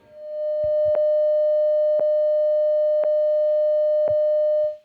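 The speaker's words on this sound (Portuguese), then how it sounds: "O som de 600 Hz é esse som aqui" A pure 600 Hz sine tone holds steady and loud for several seconds, with faint clicks at regular one-second intervals and a quick fade at the end.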